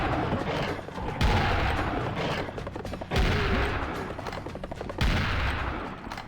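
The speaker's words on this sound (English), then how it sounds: "Actually, quite a few enemies stacked up, so I'm just gonna super shotgun them all." Super shotgun blasts in the Serious Sam Revolution video game, three loud booming shots spaced about two seconds apart, each followed by ringing decay under a busy mix of gunfire and game noise.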